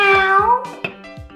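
A cartoon cat meows from the roof of a toy train in a children's show, a single clear, close and loud meow with a few short hums underneath.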